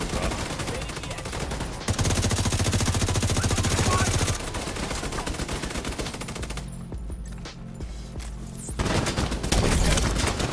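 Sustained automatic gunfire from a shooter game, The Division 2, in the Tidal Basin stronghold mission, rattling in dense bursts with short breaks and a quieter stretch midway before the shooting picks up again.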